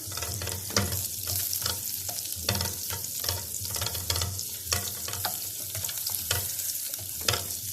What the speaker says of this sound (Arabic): سيح بس الزبده